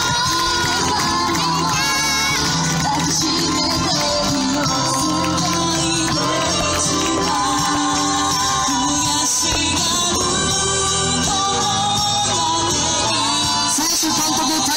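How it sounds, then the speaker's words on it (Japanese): A large crowd at a high school soccer event cheers and shouts continuously, a dense, loud wash of voices and applause without pause. "大きな拍手どうぞお送りください"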